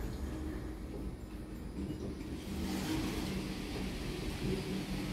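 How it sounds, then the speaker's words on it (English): A KONE lift with an NMAX motor runs at 10 Market Street, giving a steady low rumbling drone that thickens about halfway through, with a faint airy hiss above it and no voices. "I think it has an NMAX motor."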